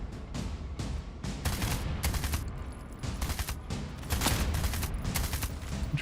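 Shotgun fire in a futuristic shooter game demo: a rapid string of loud, punchy blasts repeating steadily for several seconds with little pause between them.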